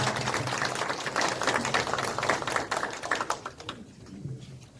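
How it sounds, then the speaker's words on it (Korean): Audience at a Korean city citizens' regional meeting applauding the mayor, dense steady clapping from a crowd that thins out and fades toward the end. "시장님께 큰 박수 부탁드리겠습니다."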